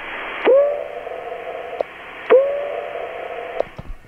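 Icom IC-9700 transceiver with auto notch engaged against interference keyed from a handheld radio: two loud keyed bursts, each opening with a sweeping tone that the notch then holds to a steady hum.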